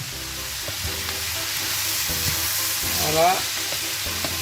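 Red onion with garlic and pepper sizzling and frying in a pan, a steady close hiss with occasional stirring scrapes, while a voice speaks briefly.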